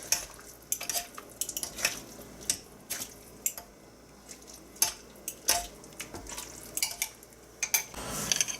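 Two forks shred a pile of pulled pork. Close, quiet metal scrapes and soft clinks come in an irregular series of short taps against a low room hush, with no talking.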